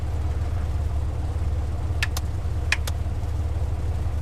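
A Cessna 182 engine in the Prepar3d flight simulator idles at about 1000 RPM, a steady low droning hum held throughout, broken by two pairs of short sharp clicks from cockpit switches.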